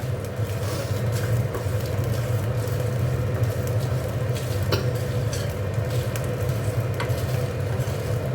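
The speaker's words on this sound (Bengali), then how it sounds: "দেখো এখানে একটু ধনে, জিরে আর গরম মশলা, শুকনো লঙ্কা একটু ভেজে নিচ্ছি" Coriander, cumin, garam masala and dried chillies dry-roasting in a pan, giving a steady low sizzle and rustle with a continuous rumbling bed, no talk over it.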